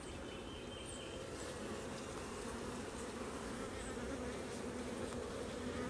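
A single honeybee buzzes right against the microphone of a phone during a hive inspection, a steady close drone that fills the moment with no talk.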